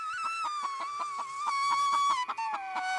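A chicken clucking close by in a rapid, rhythmic series of harmonic calls that run steadily for a few seconds, loud and alone without speech.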